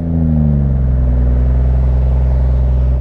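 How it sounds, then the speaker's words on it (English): BMW M140i cold start, with the exhaust giving a deep, steady, close burble whose pitch drops slightly at first before settling into an even idle. "the exhaust sort of bubbles or burbles or whatever you want to call it, a bit like the old 135s used to do on the cold start"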